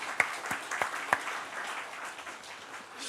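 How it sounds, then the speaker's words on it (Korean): A church congregation applauds during a Sunday service, with a short burst of scattered clapping that starts with a few sharp claps and settles into a steady, moderate patter. "옆에 분 다시 한번 옆에 분에게 박수 한번 이렇게."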